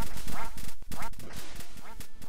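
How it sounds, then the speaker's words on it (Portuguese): Cartoonish duck quacks from a Roblox RBLXWare mini-game repeat loudly in quick bursts, layered over busy game sounds while a player talks excitedly. "Se prepare, eu sou um pato! Eu sou um pato! Todos somos patos!"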